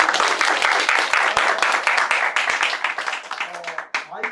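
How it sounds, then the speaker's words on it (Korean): An audience at a university special lecture applauds to welcome the lecturer. Dense, steady clapping fills most of the stretch, then thins out toward the end as a voice briefly comes through. "우선 박수로."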